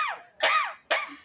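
Three sharp, raspy coughs in a quick, evenly spaced series, each rising into a harsh burst and then fading, close and fairly loud with no speech.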